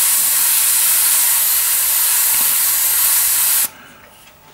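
An airbrush sprays AK-Interactive track primer in a loud, steady close-up hiss that holds for nearly four seconds, then cuts off abruptly into near quiet.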